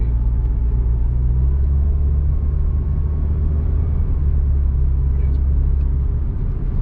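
VW Golf MK5 engine running rough and breaking up, a steady low rumbling drone lasting several seconds, close and without talk.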